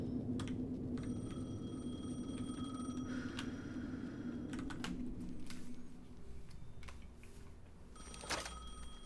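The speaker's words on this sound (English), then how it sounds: "Answer the phone. The phone again." A telephone rings repeatedly in Alan Wake 2, its electronic bell bursts sounding at intervals over a low ambient game drone, with a few sharp clicks mixed in.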